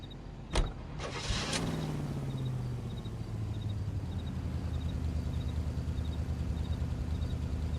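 Car in the video game L.A. Noire: a couple of sharp clicks and a power window whirring, then a steady engine hum idling on underneath, with faint periodic ticking.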